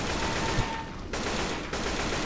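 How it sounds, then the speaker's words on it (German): Continuous rapid minigun fire roars from the video game Left 4 Dead 2, a dense unbroken stream of shots with brief pauses between bursts. "Hier ist eine Minigun."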